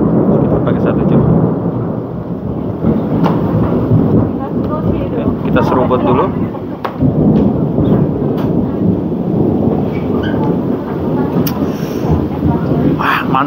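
Heavy rain pours in a dense, loud hiss at a restaurant, with low rumbles of thunder rolling beneath it and a person speaking briefly over the storm.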